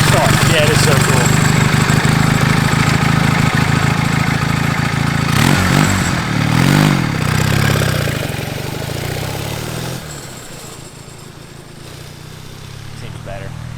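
A twin-cylinder, four-speed mini bike built from junkyard parts runs with a rough, buzzing engine note while people talk over it. The engine quietens after about ten seconds.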